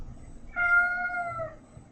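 A house cat meows once, close and clear, a single drawn-out tonal call over a quiet room.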